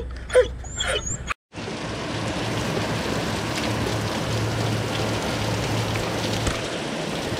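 Steady rain falls after a brief burst of sound and a short gap, with light lightning reported during an outdoor trash day, forming a continuous even hiss that stays level to the end.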